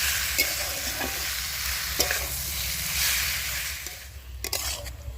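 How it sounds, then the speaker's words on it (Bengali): Spoon stirring quince pickle with sugarcane jaggery in a pan, soft scraping and gentle sizzle with occasional louder knocks of the utensil against the pan, steady and close, no talking. "এবার আস্তে আস্তে এইভাবে আমি এগুলোকে মিশিয়ে নেবো আখের গুড়ের সাথে"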